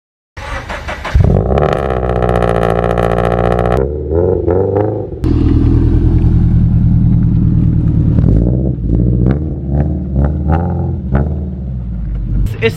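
Car fitted with a Greddy Evo GT exhaust starts up and revs loudly nearby, a deep rumbling idle broken by sharp rising revs and blips, then settling back into a throaty burble.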